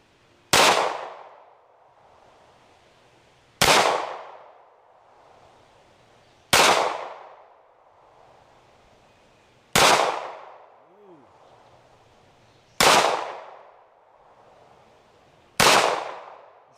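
Gunshots striking steel targets: six loud, sharp cracks spaced about three seconds apart, each ending in a short ringing decay, with quiet between them.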